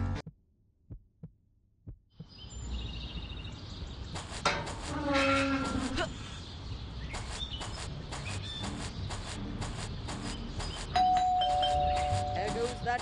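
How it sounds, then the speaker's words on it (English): Doorbell chimes ring out repeatedly inside the Scary Teacher 3D game, sounding over a steady bed of game music and effects, with a sustained tone toward the end. "There goes that stupid bell again."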